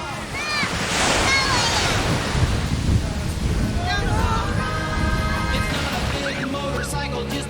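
Small waves wash against a beach in continuous broadband surf with wind rumble, while children and adults talk and call out throughout at close range.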